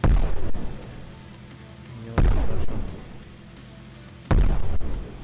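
Tank cannon fire in the video game Brick Rigs: three heavy booming shots roughly two seconds apart, each a loud sharp blast with a rumbling decay, and no talking.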